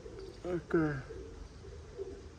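Pigeons kept at a home coo briefly in a soft, throaty burst near the middle, over a steady low background murmur.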